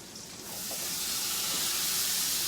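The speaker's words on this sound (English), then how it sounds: "That's just steam, it's not gonna kill you." Steam hisses loudly from a hot pan after lemon juice is added during cooking, rising quickly from quiet into a steady, close sizzling rush with no talking.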